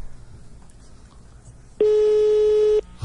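A single steady telephone tone sounds loud and clear for about a second as a live call is placed, preceded by quiet background.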